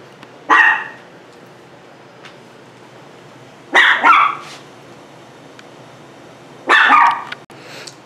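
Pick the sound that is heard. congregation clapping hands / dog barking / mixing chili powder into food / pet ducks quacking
dog barking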